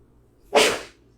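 A single short, sharp sneeze bursts out once in a quiet room during a yoga class, then quickly fades away.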